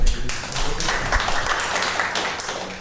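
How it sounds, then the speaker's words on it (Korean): Audience applause after a presentation at a humanities workshop, a dense steady wash of many hands clapping that holds evenly for a few seconds with no talk over it. "박수 한번 드리죠"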